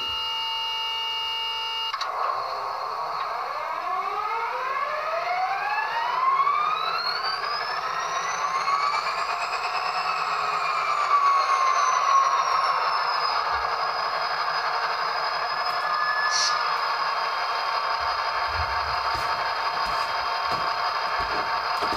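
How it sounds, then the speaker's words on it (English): A model F40PH-2D diesel locomotive's sound decoder plays the prime mover startup: the engine cranks and spins up, its whining tones rising and then settling into a steady, loud mechanical drone with some rattling. "we're going to turn on the prime mover first, which is function 8. Here's the startup."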